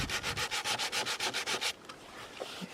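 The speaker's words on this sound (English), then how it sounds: "doing some sanding and repainting right now" Sanding before repainting at a camp: about a dozen quick, even rubbing strokes in a steady rhythm, close and clear, then the sanding stops and the scene goes quiet.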